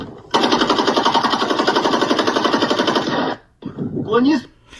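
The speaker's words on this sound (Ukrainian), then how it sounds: "цей попереджувальний постріл, який робив прикордонник" A long, rapid burst of warning fire from an AK-74 automatic rifle, loud and steady for about three seconds, followed by shouting voices.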